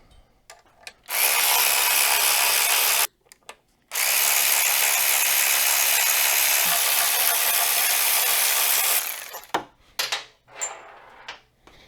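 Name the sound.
loosening motorcycle brake caliper bolts with tools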